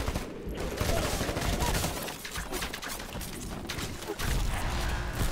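Smart pistol fire in a first-person shooter video game, rapid shots crackling continuously through a dense, loud mix of game noise without any clear pause.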